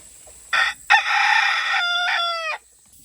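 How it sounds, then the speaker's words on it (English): A backyard rooster that enters crowing competitions lets out one loud, close crow of about two seconds, a rising strained call with a drawn-out end, followed by near silence. "that's him doing a lot of crowing too"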